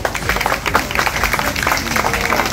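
A crowd at an anniversary party applauds three honoured guests, a busy, loud spread of many clapping hands with some crowd noise and voices mixed in underneath.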